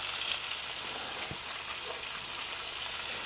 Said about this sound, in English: We're just gonna brown the chicken.